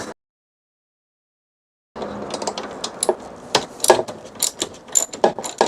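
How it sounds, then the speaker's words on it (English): Pliers grip and twist a pin out of the rear door check strap on an LEVC TXE taxi, giving a quick series of close metallic clicks, scrapes and ticks after a silent gap. "So let's try a pair of pliers on there."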